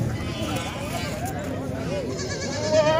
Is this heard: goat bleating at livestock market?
yes